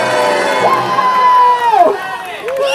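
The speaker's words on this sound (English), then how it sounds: "Where's all the cheering?" Children cheer and shout together at a Halloween race, a loud, close crowd of young voices with rising whoops and one sustained high call.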